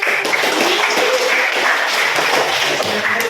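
A school audience claps together after a closing prayer at a student assembly, with a dense, steady patter of many hands filling the room, close and fairly loud, with no voices over it.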